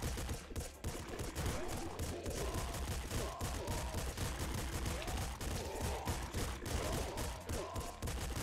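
Golden grenade launcher firing in the video game Nuclear Throne: a dense, continuous barrage of explosive shots and thuds, loud and sustained throughout with no talk.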